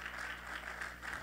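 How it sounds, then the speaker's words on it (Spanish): A church congregation applauds during a sermon, a faint, distant wash of many hands clapping in uneven swells that carries on steadily without voices. "Alguien tiene que darle un aplauso al Señor en esta hora."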